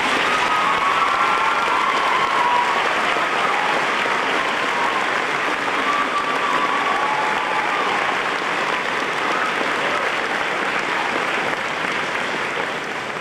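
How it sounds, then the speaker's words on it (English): Loud, sustained applause for staff members at a 2004 graduation, a dense crowd clapping steadily with light cheering mixed in, lasting over twelve seconds. "would you please stand up so that we can give you a great round of applause"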